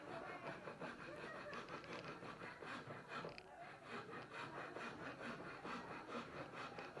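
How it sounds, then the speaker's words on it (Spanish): A wood rasp files down the lower face of a half-lap joint in steady, rhythmic rough strokes, faint and continuous throughout. "lo que vamos a hacer ahora con la escofina, emparejar la parte baja"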